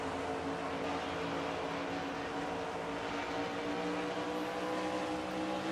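Race cars run at speed around an oval track in close pursuit, one tucked right on another's back bumper, a steady continuous engine drone with tonal bands and no clear passes or talk.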